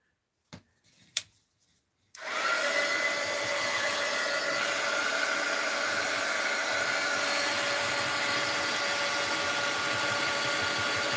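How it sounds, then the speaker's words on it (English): A heat gun used for mixed-media art journal work switches on after a couple of soft clicks in near silence, then blows with a steady, loud, airy whine that holds without a break. "All right, heat gun alert."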